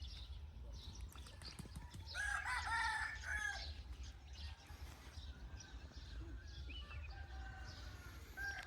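A rooster crows early in the morning, one long clear call at moderate distance, followed by a fainter answering crow over a low rumbling background.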